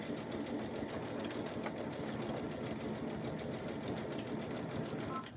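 A sewing machine stitches a tee in a fast, even, continuous run of rhythmic mechanical ticking over a steady motor drone, close and alone.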